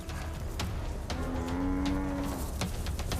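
Buffalo cows of a herd low in a sustained bellow, under the rumble of a wild lion-versus-buffalo confrontation on open ground, with no talk.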